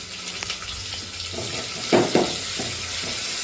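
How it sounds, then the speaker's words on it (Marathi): Onions sautéing in a pan with ginger-garlic paste for hotel-style sambar, a steady broad sizzle with a few louder scraping stirs near the middle, close and continuous with no talk. "कांदा थोडासा लाल होईपर्यंत व्यवस्थित परतून घेतले"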